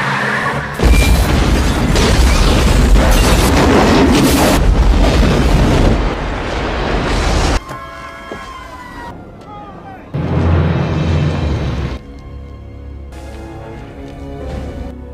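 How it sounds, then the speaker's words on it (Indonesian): A loud, deep explosive boom rumbles for several seconds, followed by quieter noisy bursts and a siren-like wail in the background, with voices mixed in. "hanya menunggu bom meledak"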